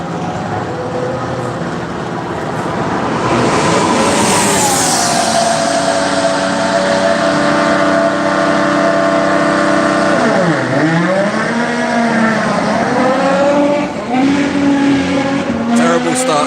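A Williams Formula One car performs a practice start at the Barcelona circuit, its engine revving up into a loud, piercing high-pitched scream, then dropping and climbing again through sharp pitch sweeps, heard at moderate distance.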